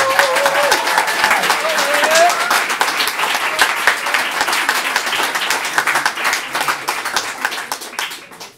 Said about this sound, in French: j'aimerais qu'on leur fasse un grand applaudissement s'il vous plaît